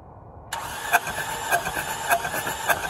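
A car engine cranks over on the starter with a compression tester fitted to cylinder 3, giving a loud, close, rhythmic whirring with regular pulsing surges, and it does not fire or start.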